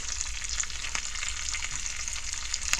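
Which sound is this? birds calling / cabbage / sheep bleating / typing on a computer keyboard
cabbage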